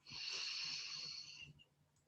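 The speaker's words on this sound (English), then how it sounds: "And you breathe into the sides, breathing in." A person breathes in deeply and slowly through an airy, hissing inhale during a relaxation exercise, lasting about a second and a half before it fades into quiet.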